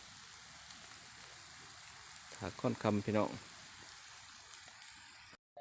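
Rain falling steadily in the forest, a constant soft hiss throughout, with someone speaking briefly in the middle.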